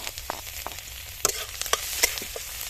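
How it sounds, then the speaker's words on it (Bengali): Chopped garlic sizzling in hot oil for a chicken satay, a steady crackling hiss broken by sharp, irregular clicks and scrapes of stirring close by, with no voices. "তেলটা গরম হয়ে গেছে, তো কাটা হওয়া রসুনটা আমরা দিয়ে দেবো।"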